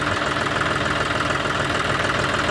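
A generator engine running to pump water for a paddy field drones steadily and closely, with a continuous mid-pitched hum and rapid knocking pulses and no voices.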